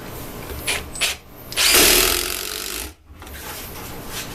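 A Milwaukee M18 Fuel power tool drives a screw flush: a few short whirring blips, then one loud, sustained burst of about a second that cuts off abruptly, followed by quieter handling noise.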